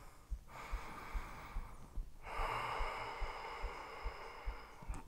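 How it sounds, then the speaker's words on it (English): Slow, steady breathing during a power yoga flow, two long airy exhalations close to the microphone, faint and soft, with a low rhythmic thumping underneath. "Take a slow, steady breath in. Slow, steady breath out."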